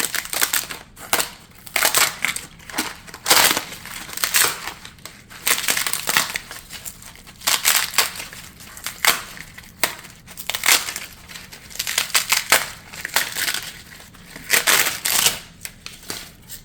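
Dried luffa gourd skin peeled and torn away by hand during harvest, a close series of dry crunching, crackling bursts in irregular clusters with brief pauses between them.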